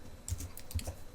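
A handful of quick keystrokes on a computer keyboard as a dollar amount is entered, light and close in a quiet room.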